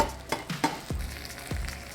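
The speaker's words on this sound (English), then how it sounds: "You can really hear that rosemary frying off" Rosemary fries in a pan with lamb, a steady close sizzle broken by a few scraping stirs, with no voices.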